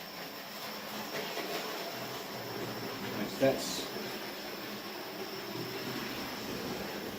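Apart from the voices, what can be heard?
model train running on the layout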